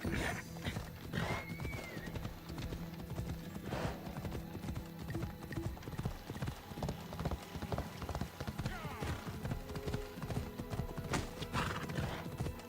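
Horse in Assassin's Creed Odyssey galloping with rapid, continuous hoof clip-clop close up, punctuated by a neigh or whinny, set against ambient game sound.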